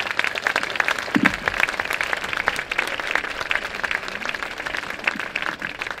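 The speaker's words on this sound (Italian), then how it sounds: "Bel applauso per i nostri ospiti." An audience applauds guests at a public talk and dialogue event, steady dense clapping filling the room at moderate level throughout, with no speech over it.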